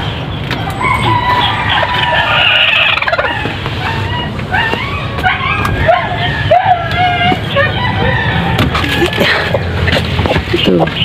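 Backyard chickens of mixed breeds, including Basilan, feather-footed Chinese and native hens, cluck and gobble steadily near and loud throughout, with turkey-like calls mixed in and people talking in the background.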